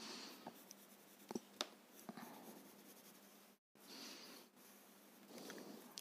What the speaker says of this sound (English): Add a little extra pencil below.